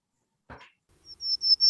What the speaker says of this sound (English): that's a very buzzy vocalization